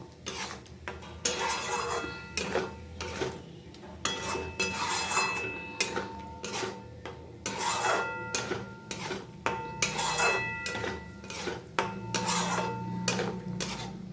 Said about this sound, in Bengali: এগুলো সব দিয়ে দেবো ভালো করে আর কষিয়ে নেব